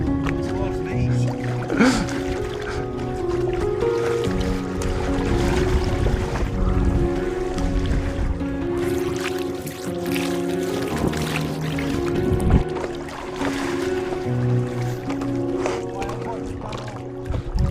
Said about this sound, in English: Trying out the new Sedilor Madison kayak, 2-person kayak.